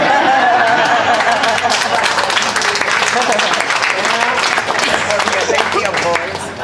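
Clapping and applause from an audience at a speech about a family's legacy in a movement, a steady crackle of many hands running beneath a speaking voice throughout.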